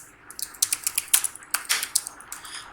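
Fruit names are typed on a computer keyboard in quick, close, crisp keystrokes, a burst of clicks with a short pause before another run, and no talking.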